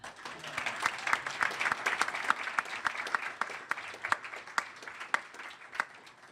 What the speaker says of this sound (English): we were gonna give him a big round of applause.